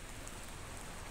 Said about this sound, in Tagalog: At umuulan.